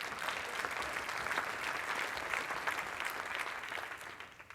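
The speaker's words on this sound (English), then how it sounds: "Give him a round of applause out there" A crowd applauds a marathon runner at a mayoral address, steady dense clapping filling the room for several seconds before tapering slightly at the end.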